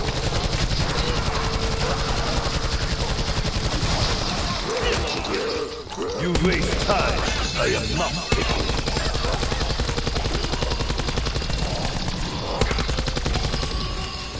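Gunfire and explosions from a PS4 video game pour out in continuous rapid bursts and rumbling blasts, loud and dense throughout, with game characters talking over the din.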